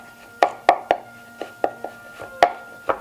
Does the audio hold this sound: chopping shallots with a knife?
yes